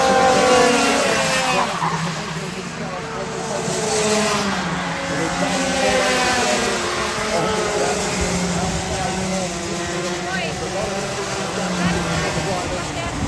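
Race cars at speed on a circuit during a pre-final superheat of the Norwegian Championship, a continuous roar of engines with tire noise, passing and shifting, while a commentator talks over it.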